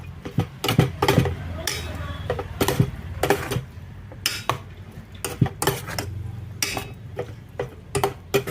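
Thai grilled pork salad is tossed in a small pot, the spoon clinking and scraping sharply against the metal in quick irregular strokes, with soft mixing sounds between the clanks.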